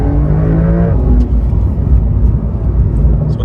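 Porsche 911 with PDK transmission, engine revving hard while driving, a rising harmonic whine in the first second that drops and settles into a loud, steady, close-up engine roar.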